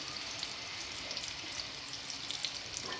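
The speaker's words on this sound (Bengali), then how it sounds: "মাছগুলো আমি একটু কড়া করে ভাজবো।" Fish frying crisp in hot oil in a pan, a steady dense hiss and crackle with scattered pops, close and even throughout, no voices.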